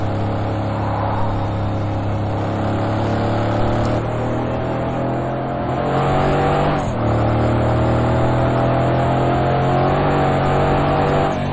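A loud, continuous Mercedes-Benz AMG C63 S engine in the racing game Project Cars 2 roars and revs with shifting pitch, climbing and settling as gears change, no voices over it.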